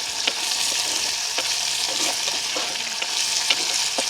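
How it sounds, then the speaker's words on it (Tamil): Onion, green chili and curry leaves frying in a pan in a village kitchen, a bright constant sizzle punctuated by sharp pops and the scrape of stirring, close by. "வெங்காயம் பச்சை மிளகாய் கறிவேப்பிலை எல்லாம் அப்படியே சேர்ந்து எங்களுக்கு பொரிஞ்ச மாதிரி வரட்டுக்கு."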